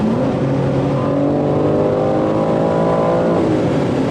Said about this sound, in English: I know a lot of that's like artificial engine noise